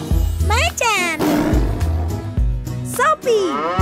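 Loud animated tiger roars punctuate a children's song, with sung voices and music throughout and a voice imitating the big cat's growling roar in two sweeping bursts.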